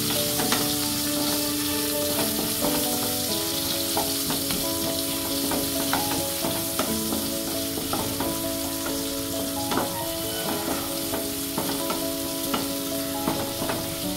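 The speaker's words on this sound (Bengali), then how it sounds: "পেঁয়াজটাকে আমি নেড়ে নেব।" Chopped onion fries in a pan with a steady, loud sizzle, while a spatula stirs it and scrapes and taps the pan in frequent small clicks throughout.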